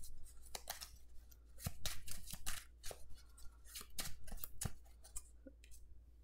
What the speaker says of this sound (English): We can admire the shuffling here.